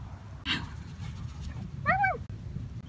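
A puppy gives a short, high, wavering whimper up close, after a brief soft yelp earlier, over quiet background noise.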